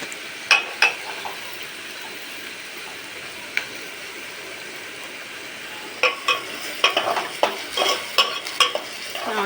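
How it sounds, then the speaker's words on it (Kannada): Onion and curry leaves frying and being stirred in hot oil, a steady close sizzle with sharper scraping clatters of a utensil against the pan, bunched mostly toward the end. "ಸ್ವಲ್ಪ ಕರಿಬೇವು ಆನಿಯನ್ ಫ್ರೈ ಆಗೋವರೆಗೂ ಮಿಕ್ಸ್ ಮಾಡ್ತಾ ಇರಬೇಕು."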